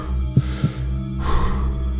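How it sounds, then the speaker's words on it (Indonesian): A horror-narration heartbeat effect: two soft, low thumps in quick succession over a steady droning hum, with a brief swell of broadband hiss afterward. "Detak jantung Surya dan napas cepat."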